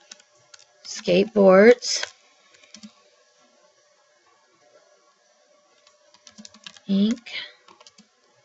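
Typing on a computer keyboard while entering a spreadsheet header, with two short bursts of light, quick key clicks, close by and separated by a pause, and a voice speaking between them.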